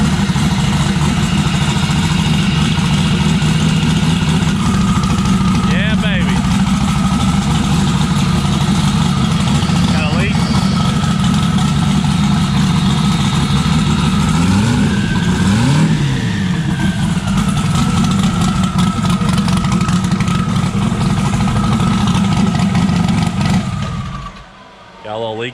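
A V8 car engine idles on a dyno with a loud, steady low rumble, a few brief blips of throttle midway, before the sound cuts off sharply near the end.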